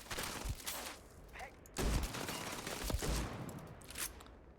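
A shotgun fires in a bounty hunter video game, producing a few booming blasts spaced over a few seconds amid a dense, noisy layer of in-game gunfire and action sounds.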